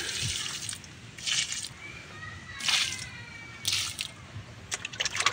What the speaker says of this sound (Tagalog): Dahan-dahan lang po dilig para masipsip nila.